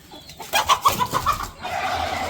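A hen on a farm clucks in a quick run of short calls, fairly close, then gives way to a steady background hum.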